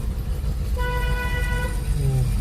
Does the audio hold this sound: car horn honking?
yes